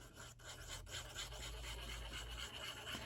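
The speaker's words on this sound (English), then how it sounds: "So I'm gonna go ahead and burnish that." Steady close rubbing of a burnishing tool along a scored paper fold while assembling a wedding mini album from 6x6 paper, a continuous scraping rasp with a few brief pauses and no talk.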